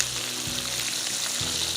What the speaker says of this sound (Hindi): आराम से फ्राई होने दे 15 मिनट,